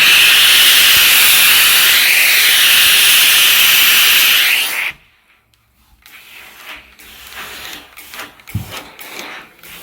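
A household steam cleaner with a built-in water tank, working like a pressure cooker during home mattress cleaning, gives a loud continuous hiss of pressurized steam for about five seconds, then cuts off abruptly, leaving quiet room sounds and light handling noises.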